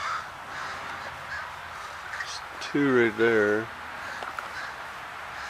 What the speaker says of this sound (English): Man, the crows are loud today.